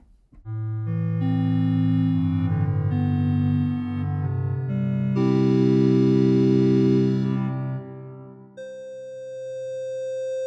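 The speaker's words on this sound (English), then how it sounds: "here is the square wave." A buzzy, hollow square-wave synthesizer tone plays a short run of sustained notes and chords, steady and loud, ending on a single held higher note.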